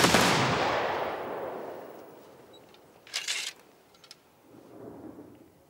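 A firing party's rifle volley at a soldier's graveside, one loud crack with a long rolling echo that fades, followed by scattered fainter reports and rustle in the distance.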